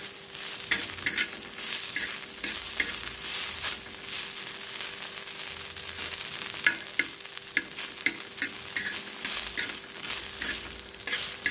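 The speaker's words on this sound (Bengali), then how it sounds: "আমি নিম বেগুনের বেগুনটাকে আগে ভালো করে ভাজা করে নিচ্ছি" Continuous close sizzling of eggplant frying in a pan, with frequent stirring scrapes and clicks throughout and no talking.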